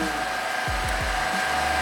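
Steady broadband engine hum of a running electric generator in Lagos, constant and fairly loud, with a few brief low thumps near the middle.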